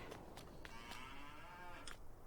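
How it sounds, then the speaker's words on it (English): Cattle moo in the farming game Farming Simulator 19, one long drawn-out low moo heard quietly and a little distant over soft background noise. "I hear cattle."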